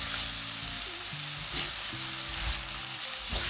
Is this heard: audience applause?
no